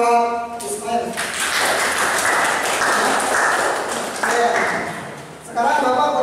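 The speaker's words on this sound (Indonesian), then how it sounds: "Kasih tepuk tangan buat Ismail." Classroom applause for a student during an AutoCAD 2D lesson: a few seconds of brief, moderately loud clapping from a small group, with speech before and after it.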